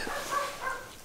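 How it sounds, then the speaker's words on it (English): A dog gives a short, single bark at a moderate distance, brief and slightly muffled. "Please don't mind my dog barking."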